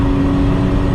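A 600 hp Nissan Skyline GT-R R34 in sixth gear at high speed on the Lekas Highway produces a loud, steady engine drone under heavy road and wind roar, heard continuously from inside the car.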